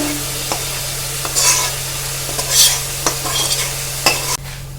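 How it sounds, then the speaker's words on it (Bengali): Thick masala is poured over chicken and potatoes in a kadai for dhaba-style chicken curry and stirred, with soft sizzling beneath and repeated scraping strokes of a spoon against the metal pan. "এবার মাংস আর আলুর মধ্যে আমি ঢেলে দিচ্ছি"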